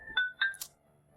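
A phone rings with a short electronic tone: two quick chirping beeps followed by a higher blip, clear and close with no one talking.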